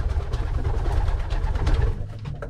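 Racing pigeons in a breeding loft cooing in low, throaty repeated rolls, several birds overlapping close by with faint rustling in the background.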